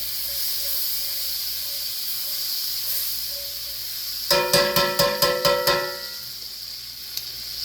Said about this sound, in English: I'm adding butter to my pan instead of oil